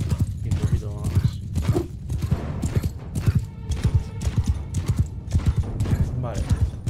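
Cavalry charging in Mount & Blade II: Bannerlord, a rapid rolling clatter of many hooves pounding close and loud, with someone talking over it.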